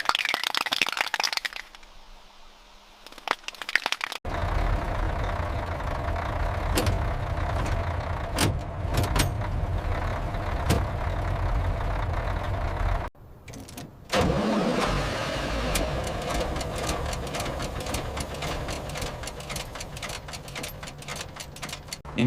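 An old Unimog backhoe's diesel engine, primed with ether after decades of sitting, cranks and then runs, giving a loud, continuous mechanical rumble with a brief drop partway through.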